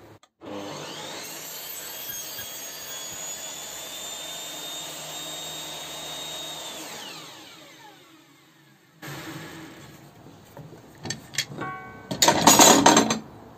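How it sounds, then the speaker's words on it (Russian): A stationary circular saw cuts a kerf in wood, with a loud, steady whining cut lasting several seconds before the blade winds down, followed by scraping, clattering and a burst of rough noise near the end; no one speaks. "После этого опять-таки делаем пропил."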